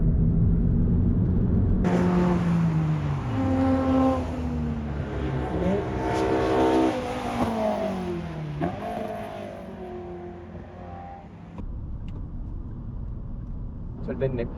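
Car lapping the Tsukuba race circuit close behind an Alfa Romeo, its engine note rising and falling through gear changes at steady volume, with people talking over it throughout.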